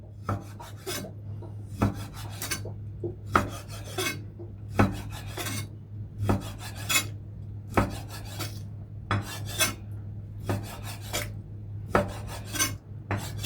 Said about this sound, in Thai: หั่นไปเลย ชิ้นบางๆ